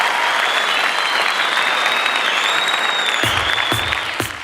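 Dense, sustained applause from a concert audience fills the space evenly, loud and continuous, with a few sharper claps and a faint voice near the end as it starts to fade.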